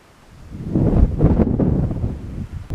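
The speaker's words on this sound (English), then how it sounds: "yeah, it's windy, but who cares?" Gusty wind buffets the microphone in low, rumbling surges, swelling and fading over a few seconds.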